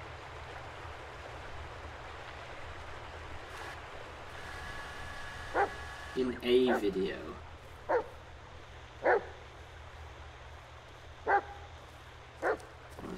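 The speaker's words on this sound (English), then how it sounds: "What's he barking at?" A dog in the Blair Witch video game barks several times in short, separate bursts over a low steady ambient hum, with a brief cluster of yips and a few spoken words from a person near the middle.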